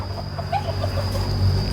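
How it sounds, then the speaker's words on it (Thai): A chicken clucks close by near a coop under construction: a few short soft clucks in quick succession over a steady background hum, with no talking. "ไก่เนาะ"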